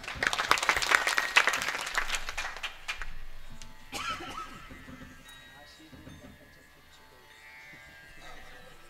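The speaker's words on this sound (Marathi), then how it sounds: "टाळी द्या जरा एकदा त्यांच्यासाठी" An audience at a Marathi devotional kirtan gathering breaks into dense clapping that is loud for the first few seconds, then thins and fades into quieter room sounds and faint murmuring.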